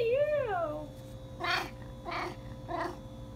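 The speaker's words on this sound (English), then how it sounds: "Oh my gosh, it's a meow." A cat lets out a long, rising and falling meow, followed by three short, breathy cries, close by in a quiet room.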